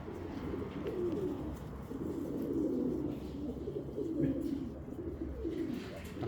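Abdusalom's Uzbek pigeons coo in soft, repeated rolling phrases, close and steady against a faint background murmur.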